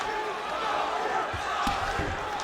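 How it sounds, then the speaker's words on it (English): Crowd noise in the video game EA Sports UFC 5 during a Khabib Nurmagomedov vs. Jon Jones bout, a continuous roar of cheering with a few thuds and impacts rising near the end. "So the crowd absolutely loving it as these fighters work their way back to the feet."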